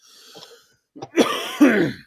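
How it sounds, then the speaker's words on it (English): A person coughs a few times close by, harsh bursts with a throat-clearing quality, after a brief quiet moment. "So I'm still coughing."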